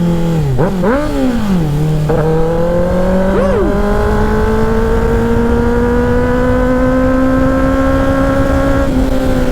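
A motorcycle engine revs and shifts through gears while being ridden, pitch rising and falling before settling into a steady climbing drone, loud and close with wind noise and no talk.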